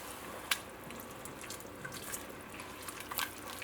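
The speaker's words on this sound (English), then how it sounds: "I'm going to go in with a little more water." Water poured into a cooking pot while making flour talkari, a steady trickling splash with a few small drips and clinks, close and fairly quiet, no talking.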